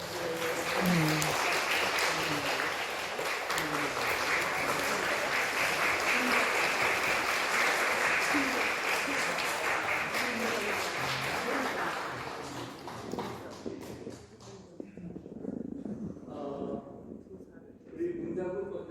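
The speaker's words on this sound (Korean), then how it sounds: "제가 목소리를 달아줄 때 우리 큰 격려로 박수해 주시기 바랍니다." Congregation applauding in a church service, a long, steady roar of clapping for about twelve seconds that thins and fades, followed by a voice speaking and scattered last claps.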